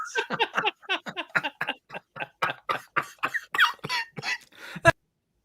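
A long run of rapid, close coughs in quick bursts, fitful and uneven, ending abruptly in silence.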